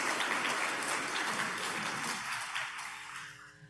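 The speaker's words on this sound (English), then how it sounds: "Let's give a big round of applause again to the New Jersey team" Audience applause fills a conference hall at a governors' association summer meeting plenary session, steady and dense clapping that gradually thins and fades toward the end while a low steady tone remains.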